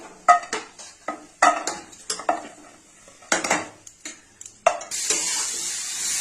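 Fried bori lentil dumplings being lifted from oil in a wok, with a series of sharp metallic spatula clinks and scrapes, then a louder continuous sizzle of hot oil near the end.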